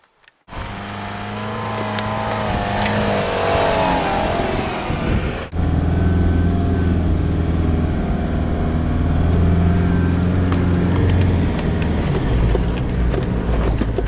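A vehicle drives the outback track from Geosurveys Hill to Camp 9 on the Madigan Line, its engine a steady, close drone with rumbling tyres that dips briefly before carrying on continuously.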